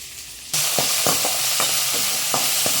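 Okra sautéed in a pan for a hotel-style tamarind curry made without coconut: a sizzle bursts in abruptly and holds steady and loud, broken by regular scraping stirs roughly every half second, with no voices.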